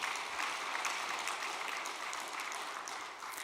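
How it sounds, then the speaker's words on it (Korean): A church congregation at an all-night Korean worship service gives a round of applause, a fairly quiet, even wash of many hands clapping that tapers slightly toward the end. "우리 박수 한번 보내주시죠"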